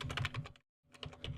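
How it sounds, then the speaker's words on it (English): Typing a password on a computer keyboard, with a dense run of rapid, close keystrokes that stops briefly and then starts again. "Then type in your password"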